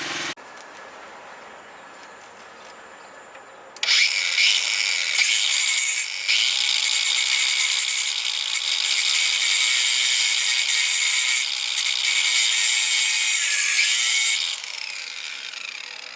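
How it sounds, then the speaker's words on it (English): A power tool grinds through an ATV chain: a loud, harsh, continuous metal-cutting whine of about ten seconds, close by, with slight shifts in pitch before it tapers off. "But first let me cut the chain and fix that."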